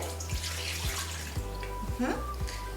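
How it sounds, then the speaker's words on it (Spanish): Milk poured from a cup into a bowl in a kitchen while baking scones, a soft continuous liquid trickle with small splashes, moderately close and fairly quiet. "voy a vaciar mi taza de leche"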